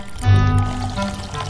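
Hot water pouring into an instant food container, a short steady liquid stream lasting about a second, close and clear with no talk over it.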